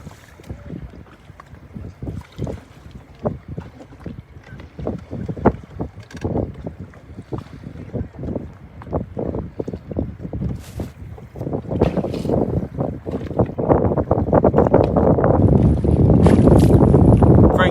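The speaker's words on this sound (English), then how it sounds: "with that wind, I know you can hardly hear me right now" Strong wind buffets a boat and a microphone on a summer crappie outing at Reelfoot, roaring in ragged gusts that grow louder and more constant toward the end, with no talking.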